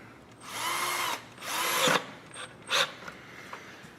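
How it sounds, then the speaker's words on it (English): A power tool drives the 10mm bolts on hose clamps during throttle body service on a Dodge Grand Caravan V6, running in two sustained whirring bursts of about a second each, then a few short blips, close by with no talk. "And now we can tighten the bolts on the hose clamps."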